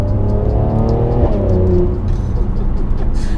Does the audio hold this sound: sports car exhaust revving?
yes